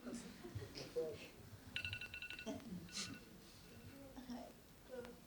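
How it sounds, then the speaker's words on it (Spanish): A telephone rings in a room during a Spanish-language discussion, a short burst of bright electronic trills standing out briefly amid ongoing talk and background noise. "Teléfono."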